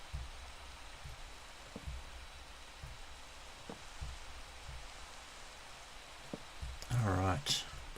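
Steady soft hiss of rain falling in a Minecraft-style block-building game, a constant wash of patter running under scattered dull in-game thumps, with a voice briefly speaking near the end.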